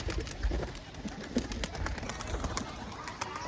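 Pigeons coo as they come out of their enclosure, soft repeated throaty calls from a few birds close by, with faint background noise.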